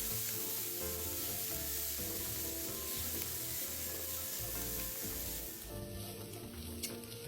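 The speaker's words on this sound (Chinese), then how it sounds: "35克蒜瓣，剁碎后加入，将所有食材一起拌炒至香味溢出。" Chopped garlic, diced Chinese sausage and dried shrimp are stir-fried together in a wok, giving a steady sizzle with stirring scrapes under continuous background music.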